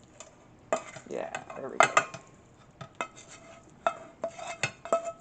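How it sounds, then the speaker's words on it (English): Cooked taco meat is scraped out of a pan into a bowl with a series of metallic clinks and scrapes of utensil on cookware, uneven and close. A voice speaks briefly over the clatter. "just gonna empty the meat out into a bowl"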